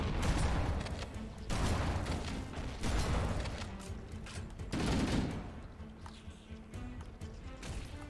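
Grenade blasts and gunfire from Halo: Combat Evolved come as dense bursts of rattling shots and booming explosions in heavy waves, with brief quieter gaps between them and no voice over the top.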